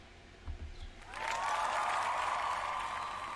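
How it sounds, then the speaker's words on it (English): A brief burst of applause, a crowd clapping that swells in after a few soft knocks and holds at moderate loudness to the end, slightly distant and hissy. "Give me the claps."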